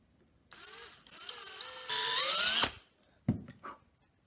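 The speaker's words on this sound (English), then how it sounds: "you're going to take a drill and you're going to drill right in" A cordless drill whirs in two close bursts, pitch climbing as it drives in a screw, then stops; a couple of short clicks and knocks follow.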